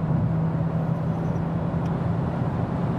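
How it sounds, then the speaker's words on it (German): A Mercedes A 250 e hybrid's combustion engine droning steadily after starting up as the car accelerates, a constant low hum with road noise, heard from inside. "Was man jetzt schön hören kann, ist, dass jetzt auch der Verbrenner angesprungen ist."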